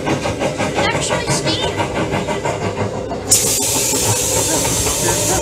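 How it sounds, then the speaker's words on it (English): Steam hisses steadily from a locomotive in Virginia City over a dense, continuous machinery rumble, then surges louder and brighter partway through. "Look up on the ceiling, it's steam."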